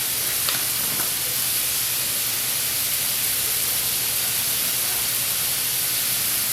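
Ground beef fries in a pan with a steady, dense sizzle and hiss, close and continuous, with no talking.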